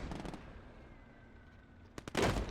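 A gunshot in the WWII game Gates of Hell: Ostfront, a loud sharp report near the end after a quiet stretch, followed by a ringing rumble, with fainter shots at the start.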